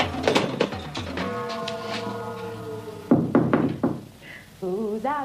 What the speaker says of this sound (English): Who's out knocking